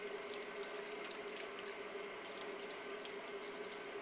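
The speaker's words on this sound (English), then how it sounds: "Turn on the water and adjust it to a lukewarm setting." Lukewarm tap water running steadily from a faucet during handwashing with soap, a continuous even rushing hiss with no breaks.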